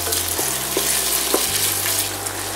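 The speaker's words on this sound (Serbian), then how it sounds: "sada dodajemo 200 g slanine I to ćemo pržiti" 200 g of bacon frying in a pan together with softened onion for a sauerkraut and meat dish, a steady close sizzle with a low background hum, with no talking.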